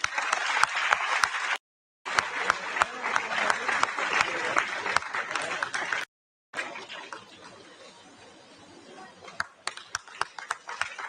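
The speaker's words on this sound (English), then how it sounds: "Can we have a big round of applause, please?" Steady, dense applause from a seated audience at a youth summit, loud and continuous, broken by two brief cuts to silence, then fading slightly toward the end.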